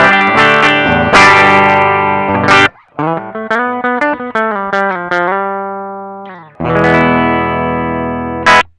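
Electric guitar played through a VOX Valvenergy Mystic Edge tube preamp pedal on the rear pickup, loud overdriven chords ringing out at the start and end around a run of cleaner single notes in the middle, with no talk.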